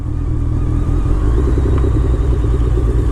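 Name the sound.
2007 BMW K1200R sport motorcycle riding in rain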